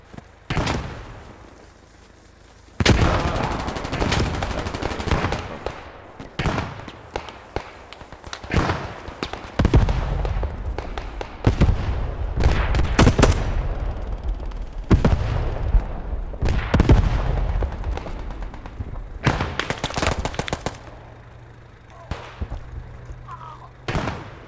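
Frag grenades detonate amid scattered gunfire in the WWII shooter Post Scriptum near Carentan: loud, sharp booms and crackling shots recur through a battle, with brief bits of voice chat between blasts.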